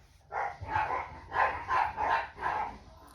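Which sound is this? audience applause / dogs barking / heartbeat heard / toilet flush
dogs barking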